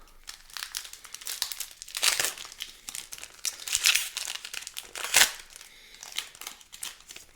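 A Dominaria Remastered draft booster pack wrapper being torn open gives close, crisp crinkling and ripping foil noises in repeated bursts, with a few sharper tears standing out.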